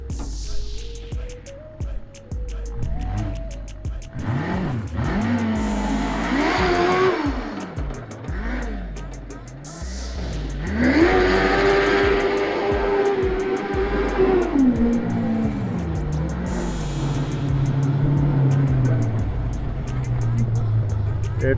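A John Deere Gator fitted with a 600cc bike engine doing donuts, the engine revving and swooping up and down in pitch as it spins, with tire scrub and voices talking over it.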